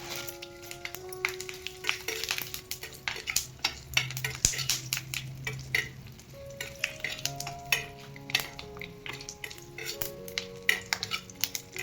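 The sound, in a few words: mace being fried in oil and stirred in a pan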